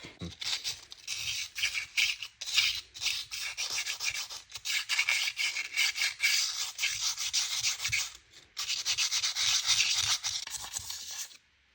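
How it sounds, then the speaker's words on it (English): Scrubbing rust from the cylinder of a McCulloch 1-51 chainsaw engine, a close, steady abrasive rasping in rapid back-and-forth strokes that runs almost continuously, with one brief pause before resuming and no talking. "I'm just going to take this, knock down all the rust, all the really bad spots in the cylinder"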